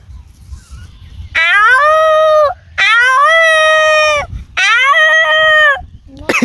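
A person imitates a jackal howl: three long, loud, drawn-out wavering calls with short pauses between them.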